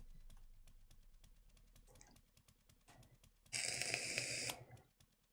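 Typing on a computer keyboard, close and fairly quiet, with rapid irregular key clicks throughout and a brief louder burst of rustling noise near the end.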